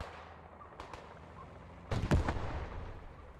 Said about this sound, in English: Artillery, well-placed artillery.